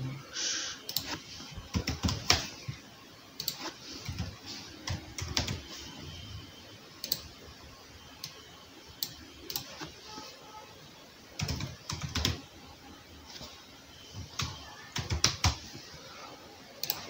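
Someone types an email address on a computer keyboard, with bursts of rapid key clicks separated by short pauses and occasional louder keystrokes, close and fairly quiet.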